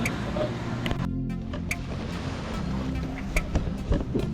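Sea waves wash onto a fine white sand beach in El Nido, a low steady rumble of surf mixed with microphone wind buffeting, fairly faint with a few brief knocks.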